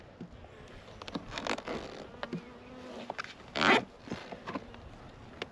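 Honey bees buzz around a hive outdoors, with intermittent close passes and one louder, nearer buzz standing out over a quiet background.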